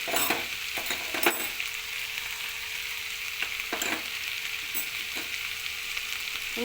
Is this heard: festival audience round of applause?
no